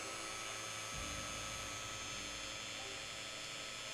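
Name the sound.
drilling through a model ship part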